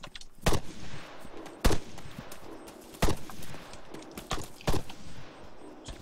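Heavy machine gun firing in the Arma 3 game: sharp, loud bursts come at irregular intervals of about a second, with a busy rumbling battlefield bed underneath and no talk.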